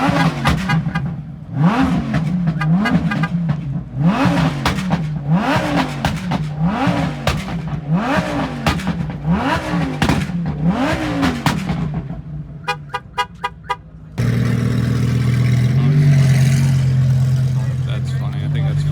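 At an outdoor cars and coffee meet, a car engine revs repeatedly toward redline in a rhythmic series of loud rising and falling blips, then a brief stutter of pops and a steadier roar; people talk nearby.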